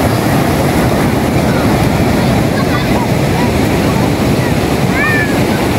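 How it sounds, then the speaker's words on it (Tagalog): Strong sea waves surging on a crowded beach under an overcast sky, a loud continuous wash of surf with wind buffeting the microphone throughout. "Parang malakas po yung alon."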